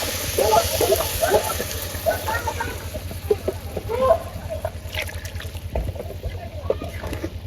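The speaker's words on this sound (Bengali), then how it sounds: "এখন আমি দিয়ে দিব পানি" Water is poured into a pot of fried, broken rice grains, a soft trickling splash running under a voice as she talks throughout, with a few faint clinks.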